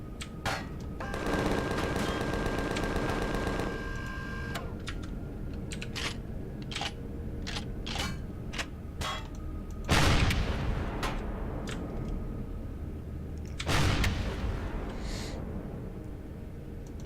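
Gunfire in the space survival game Empyrion Galactic Survival, a rapid burst of automatic fire followed by scattered single shots and two louder blasts, sharp and punchy over a low ambient hum.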